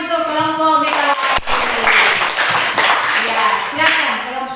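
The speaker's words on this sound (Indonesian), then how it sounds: "Tepuk tangan untuk kelompok Megawati." A classroom group claps for a presenting team, a burst of dense hand clapping that starts abruptly and carries on over several seconds, with voices talking before and during it.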